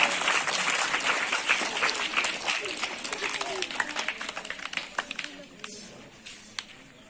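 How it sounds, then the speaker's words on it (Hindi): An audience at a Teachers' Day event applauds warmly, a crowd of clapping hands that thins into scattered individual claps near the end, with a voice briefly audible underneath. "प्लीज तालियों से स्वागत करें टीचर्स डे का"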